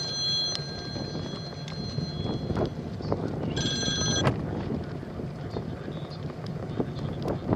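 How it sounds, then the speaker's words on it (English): An outdoor mobile phone rings in short electronic bursts, with two clear rings standing out over steady wind noise buffeting the microphone. "I was not expecting my phone to ring."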